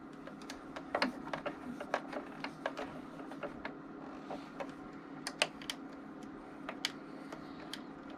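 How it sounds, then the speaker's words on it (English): Faint, irregular small ticks and clicks as the faceplate and screws go back onto a Singer Confidence sewing machine, quiet and close over a steady low hum, with no talk. "Putting the faceplate back on. And the screws."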